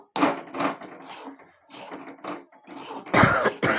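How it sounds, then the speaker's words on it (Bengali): A person coughs several times in short bursts while cooking semolina in a kitchen, with a harsher, louder cough near the end. "তো আমার একটু কাশি হয়েছে"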